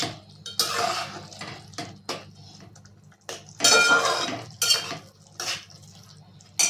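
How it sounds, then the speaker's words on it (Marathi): Mushrooms tipped into a cooked masala gravy for dhaba-style mushroom masala and stirred in the pan, with bursts of utensil scraping and clinks separated by short quiet gaps. "आता आपण याच्यामध्ये मशरूम टाकून घेऊया आणि ते परतायचे आपल्याला"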